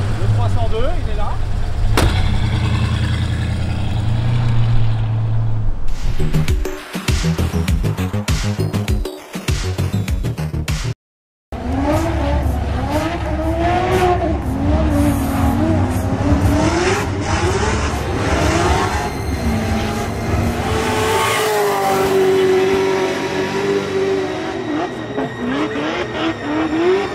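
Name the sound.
Ford Mustang 302 V8 engine starting and revving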